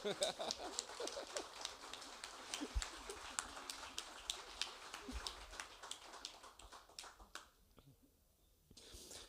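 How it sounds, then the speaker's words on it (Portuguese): Applause from a bookshop audience at a children's book launch, honouring the author's daughter; dense, fairly quiet clapping that keeps up steadily, then thins to a few scattered claps near the end. "a minha filha merece uma salva de palmas"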